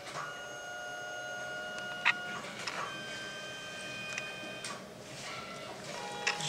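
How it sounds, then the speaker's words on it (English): A photo booth printer runs a print job with a steady mechanical whir and faint tonal hum. A few sharp clicks and ticks come through at close range, with no voices. "in a few moments it will start making a sound and start printing"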